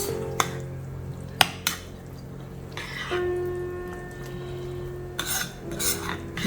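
Food being mixed in a bowl with added salt brings sharp clinks of a utensil against the bowl and scraping stirs, close up and spaced irregularly, with a faint hum behind.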